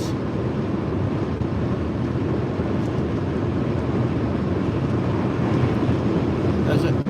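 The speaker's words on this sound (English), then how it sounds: "there is a strong wind blowing on the side of the car." Strong wind buffets the side of a car on a snowy Dutch highway between Lelystad and Muiden, a steady loud roar and rumble that holds constant throughout with no breaks.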